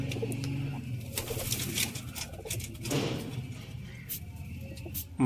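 Soft pigeon coos repeat at a slow, irregular pace against a faint outdoor background, with occasional light pattering.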